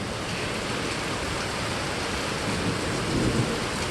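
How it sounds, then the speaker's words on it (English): Heavy hurricane rain pours in a steady, dense roar with a low rumble of thunder swelling faintly near the end, no voices. "That's what you call rain."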